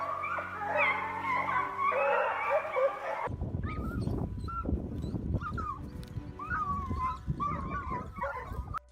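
Hunting dogs chasing a red fox yip, whimper and bark excitedly, a dense overlapping chorus at first, then scattered close yelps and cries over rough rustling movement.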